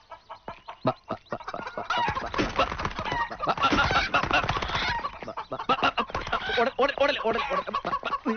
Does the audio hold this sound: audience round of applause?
no